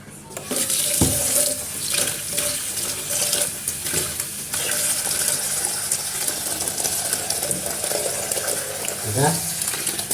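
Tap water runs steadily into a basin while a worker changes the water during mixing for a wall and peeling-paint repair job, with clatter and a brief scrape partway through, and no talking.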